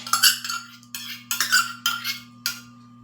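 A spoon clinks against a glass bowl about six times in quick, uneven taps while basil seeds are added for a summer drink. The clinks are close and bright, with a faint steady hum underneath.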